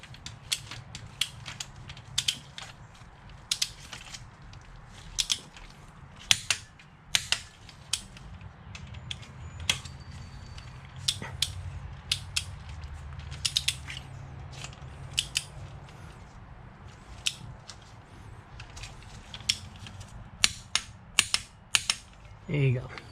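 A torque wrench tightens intake manifold bolts, giving repeated sharp ratcheting clicks at an uneven pace over a low, faint background hum, close and fairly quiet.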